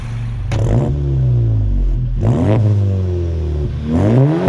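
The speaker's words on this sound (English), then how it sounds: "and I'll get you some exhaust clips now." Exhaust of a Volkswagen MK7.5 GTI, three quick throttle blips that each rise in pitch and drop back to idle. Loud and close, with no voices.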